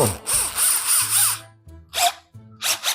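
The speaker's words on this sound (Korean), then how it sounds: "일단 드릴로 구멍을 뚫고" A power drill bores a hole for a rivet while a door damper shock is being reinstalled. It whines in several short, close bursts, with one longer run first and then brief stop-start pulses.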